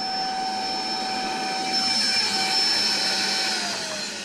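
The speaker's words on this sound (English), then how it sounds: "Vacuum cleaner fell down." A vacuum cleaner runs steadily on a farm with a high, constant whine and a broad airy roar that swells slightly midway and stays loud throughout, without talk.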